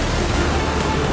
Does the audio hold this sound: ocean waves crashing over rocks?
yes